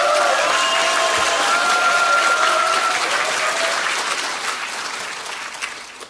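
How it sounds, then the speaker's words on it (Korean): Sustained applause from a political event audience greeting a Democratic Party lawmaker, steady dense clapping that holds loud and gradually tapers toward the end. "다음 분도 똑같이 크게 박수 쳐주시면 좋겠습니다"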